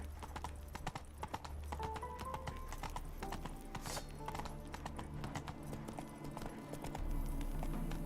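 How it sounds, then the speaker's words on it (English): A horse gallops in The Witcher 3 with rapid, steady hoofbeats, a brief whinny partway through, and game background ambience, without speech. "Run, Roach. Move on."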